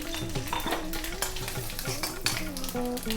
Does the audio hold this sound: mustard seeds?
yes